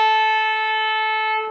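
A clarinet sustains a single high B, a clear, steady tone lasting just over a second before it tapers off, played alone.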